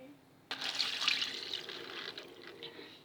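A homemade potion is poured into a trash bin, a sudden close splash that settles into a sloshing, gurgling pour for a few seconds.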